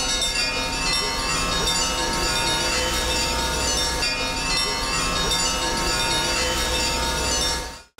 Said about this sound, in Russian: Сегодня было слышно колокола всех церквей Нижнекамска.